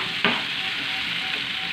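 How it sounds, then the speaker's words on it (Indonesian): Spice paste sizzles and fries in a pan for beef-rib vegetable soup, with a steady close-up hiss and a brief stirring scrape near the start. "Sekarang saya lagi tumis dulu ya bumbu yang tadi untuk sop."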